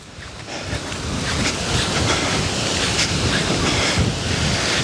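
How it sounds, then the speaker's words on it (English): Steady, heavy wind roars and buffets the microphone throughout, a broad continuous rush with no speech. "it's extremely windy"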